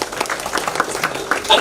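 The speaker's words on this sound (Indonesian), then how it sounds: "Tepuk tangan dong" Scattered clapping from a seated audience at a public discussion on religion, uneven and fairly close, mixed with voices talking over it.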